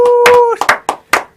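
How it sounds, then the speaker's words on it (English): Studio audience clapping for a guest on a talk show, a short burst of applause with a few sharp claps trailing off, and a steady tone running under the first half. "Let's give a round of applause once again for him."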